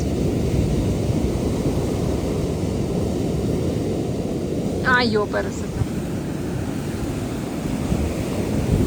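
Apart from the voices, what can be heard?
ocean waves on beach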